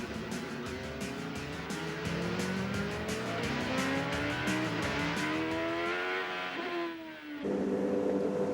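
A pack of ChampCar open-wheel race cars roaring off the start at Road America in round 10 of the 2007 season, engines rising in pitch as they accelerate in a loud, dense, sustained blare.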